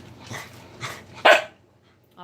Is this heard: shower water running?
no